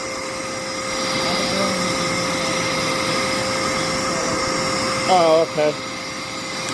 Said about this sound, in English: Yeah, this vacuum cleaner's pretty much had it.